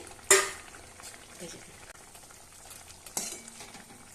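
Fried sea fish pieces stirred into a simmering masala in a pan, with two sharp clattering hits of the utensil against the pan and a soft sizzle and bubbling in between, close by and without speech.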